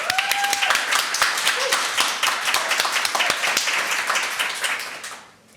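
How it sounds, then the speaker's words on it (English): An event audience gives a round of applause, crisp distinct claps from a moderate crowd that run steadily for several seconds, then fade out at the end, with faint voices mixed in. "so deserve another round of applause, I reckon."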